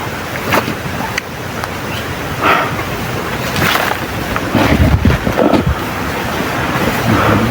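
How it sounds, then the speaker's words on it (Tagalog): Strong wind buffeting the microphone in loud, rumbling gusts, with a continuous roar and no talking. "Lakas ng hangin."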